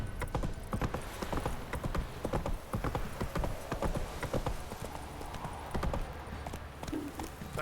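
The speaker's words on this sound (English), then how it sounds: "Whoa there, Roach. Time to water the horses" Horse hooves clip-clop in a steady, rapid rhythm in the video game The Witcher 3, a close and even gait with a faint whinny-like sound near the end.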